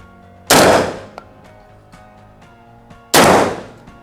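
A Derya MK12 magazine-fed shotgun fires Thai-made ammunition at a 10 m target, giving two loud, booming blasts about two and a half seconds apart, each followed by a brief ringing decay.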